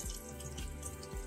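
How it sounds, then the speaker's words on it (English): Hot water runs steadily from a tap over a makeup sponge being rinsed in a sink, a continuous soft hiss and splash with faint dripping, fairly quiet and uninterrupted. "We're gonna use some hot water and just kinda try to rinse it out with some hot water first."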